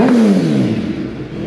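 A 2022 Suzuki Hayabusa fitted with an M4 exhaust, mounted on a dyno, revs loudly with a rising then falling engine note over about a second and a half, close and dominant with no talk.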